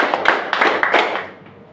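Several sharp hand claps ring out close by in a classroom counting game, a short uneven run of individual claps with little else around them.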